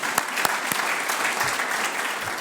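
Dense audience applause fills the room at an awards ceremony, steady and fairly loud, with a few sharper individual claps standing out near the start.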